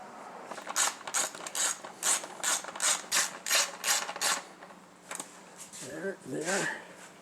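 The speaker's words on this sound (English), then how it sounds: "you always start them by hand, and then tighten them by wrench" A wrench ratchets on motorcycle carburetor bolts in a steady series of about a dozen rhythmic clicking strokes, close and fairly loud, then stops before a brief voice is heard.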